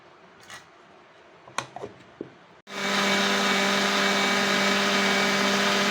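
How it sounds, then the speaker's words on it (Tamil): After a few light clicks and taps, a mixer grinder starts abruptly and whirs at full power while grinding fennel and turmeric into a fine paste, a loud, steady motor drone with a strong hum that runs to the end. "இதை கொஞ்சம் நல்லா மைய அரைச்சிட்டு வந்துடலாம்"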